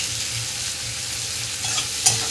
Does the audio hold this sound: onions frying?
yes